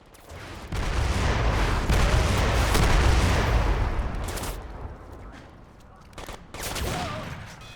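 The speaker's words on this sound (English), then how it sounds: "Rocket launcher!" Rocket launcher explosions in the Crysis video game, heavy booming blasts that roll on for several seconds with a second burst toward the end, loud and close with no talking over them.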